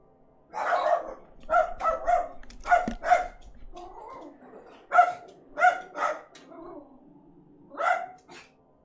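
Dogs barking indoors at home, several loud, close, sharp barks in irregular bursts, some doubled, with quieter whining and grumbling sounds between them.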